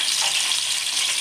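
Green chillies fry in hot oil with fenugreek and ajwain, giving a steady, close sizzle that stays even for the whole second or so, with no voices.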